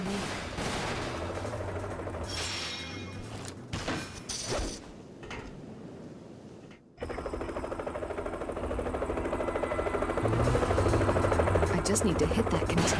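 A helicopter's engine and rotor roar sit beneath bursts of heavy, rapid gunfire, the din swelling louder toward the end, in the video game Resident Evil: The Umbrella Chronicles.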